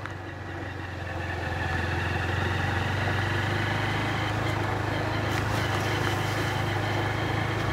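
A motorcycle rides through a muddy dirt track in Ceará, Brazil. Its engine holds a steady, close, continuous drone that swells slightly after the first second and then stays even throughout, with no talking.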